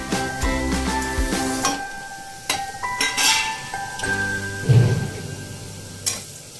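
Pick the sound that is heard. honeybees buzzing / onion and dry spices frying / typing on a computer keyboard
onion and dry spices frying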